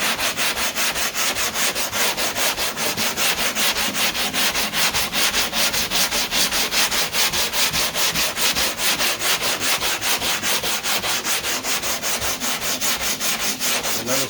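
Hand-sanding Bondo body filler along a car body line makes a fast, rhythmic scratchy rasp that repeats evenly back and forth, loud and close, with no talking over it.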